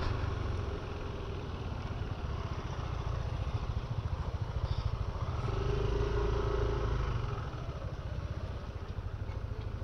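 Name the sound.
Yamaha Aerox motorcycle engine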